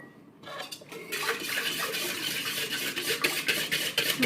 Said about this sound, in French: Donc là, vous mélangez bien.